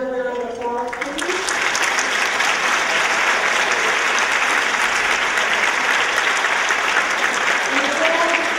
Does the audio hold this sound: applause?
yes